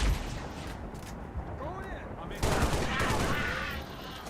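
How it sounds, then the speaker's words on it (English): Turret gunfire crackles in a video game as rapid bursts of shots with booming impacts, growing louder midway, under a game character's radio-style speech. "Taking fire from that turret!"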